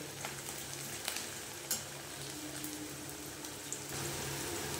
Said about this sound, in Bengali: এই পেঁয়াজটা ভাজা ভাজা হয়ে গেলে আমি এর মধ্যে দিয়ে দেব